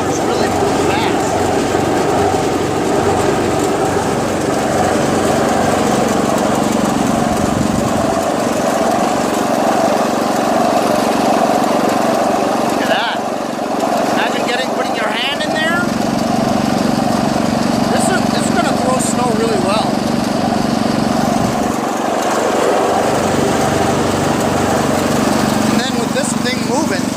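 Snowblower engine running steadily with its auger engaged and impeller spinning fast, a loud continuous mechanical drone close by throughout, with a person talking over it.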